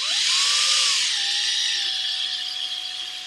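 A drill bit whines into the plastic of a Razer mouse scroll wheel, a steady high-pitched squealing spin whose tone drops slightly partway through, close and continuous with no talking.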